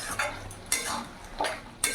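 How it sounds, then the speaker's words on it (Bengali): A utensil stirs mixed vegetables with fried eggplant in a frying pan, making about four rhythmic scraping strokes over a soft sizzle, close and with no talking. "এবার ভেজে রাখা বেগুনগুলো দিয়ে দেবো, ভালো করে মিশিয়ে নেবো"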